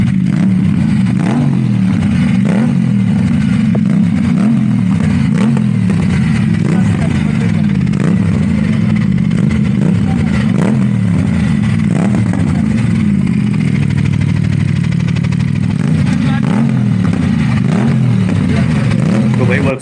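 An Aprilia motorcycle fitted with a GPR exhaust revs over and over in a workshop, a loud, rhythmic engine note rising and falling for the whole stretch while people talk over it.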